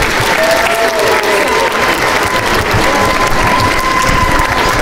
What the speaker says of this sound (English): So round of applause for them as well.